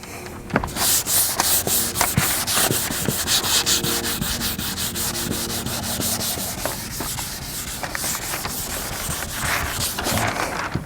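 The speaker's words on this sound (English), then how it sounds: "I'm going to scuff the primer down and obviously feather it out at the edges again" Sandpaper scuffing primer on a car bumper and feathering the edges in a crossing X pattern, a loud, close, continuous abrasive rasp with quick repeated strokes throughout.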